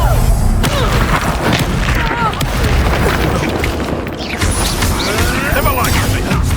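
Confringo spell blasts in Hogwarts Legacy go off as loud, booming explosions with crackling debris and clashing battle effects, densely overlapping throughout.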